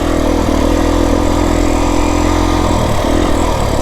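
A Beta 350 dirt bike ridden off-road through desert sand gives a loud, close, steady engine drone with a slight rise and dip in pitch, running continuously with no voices.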